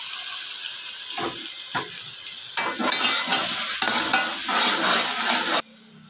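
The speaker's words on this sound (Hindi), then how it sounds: "थोड़ा सा मसाला भुन जाए मेरा।" Masala spices frying and being stirred in a pan, giving a steady close sizzle with scraping stir strokes that grow busier for about five seconds before cutting off to a quieter background.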